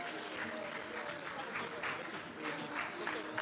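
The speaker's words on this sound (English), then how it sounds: "Another round of applause," Conference audience at an insurance sales event applauding after a keynote speech, a steady broad wash of clapping throughout with faint voices mixed in.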